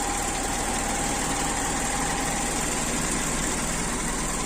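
A carbureted motorcycle engine idles steadily and loudly nearby during an idle mixture check, with a constant, even drone and light mechanical rattle and no talking.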